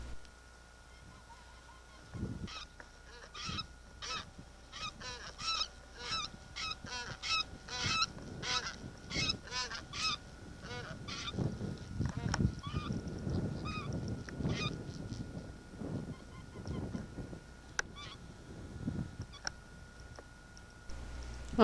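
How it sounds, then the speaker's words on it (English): White-fronted geese call over a tundra river, with repeated honking cackles rising in loose bursts from a flock at mid distance, some calls overlapping and others spaced out over a quiet background. "These are the calls of white-fronted geese."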